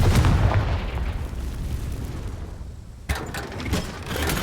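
Hogwarts Legacy explosion spells Bombarda and Confringo go off in a heavy booming blast that rumbles and fades, then a second sharp burst lands after a brief lull, with no talk over it.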